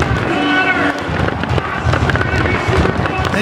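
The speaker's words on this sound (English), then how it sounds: "The two-time champion himself, Maggot, and the fireworks go off." Fireworks going off at a Supercross race, a dense continuous crackle of bursts heard at a distance under a loud stadium crowd roar and a commentator talking.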